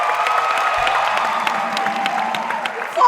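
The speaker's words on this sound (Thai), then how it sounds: "ดิฉันขอเสียงปรบมือดังๆให้กับพี่ชายของดิฉันนิดนึง" A studio audience on a singing competition show applauds and cheers in a steady, loud wash of crowd noise with music underneath.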